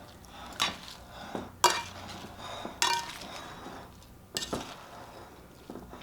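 A sardine olive tapenade salad tossed in a bowl with utensils, giving several sharp clinks and scrapes at irregular intervals, with a brief bit of speech.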